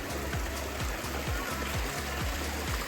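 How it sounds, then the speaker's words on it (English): Water from a backyard pool waterfall pours in a steady, close rushing wash, with a low repeating pulse underneath. "We get up to the waterfall here."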